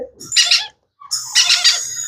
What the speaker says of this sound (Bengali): এখানে আঠাশ দিন তিরিশ দিন এবং পঁয়ত্রিশ দিন বয়সের লরি পাখি আছে বাচ্চা পাখি